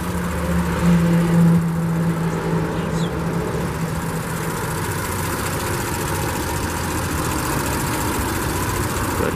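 A 2018 Audi SQ5 Prestige engine idles steadily for the whole stretch, a low, even hum with a constant drone and no revving, heard fairly close with no talking over it.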